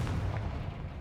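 A Confringo fire spell blast in the Hogwarts Legacy video game, a single brief, dull low boom with a rumbling tail, fairly quiet.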